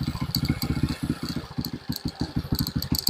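Euro 150 motorcycle engine running just after carburetor cleaning, a close, steady idle with a fast regular pulsing putter and light rattle, heard alone.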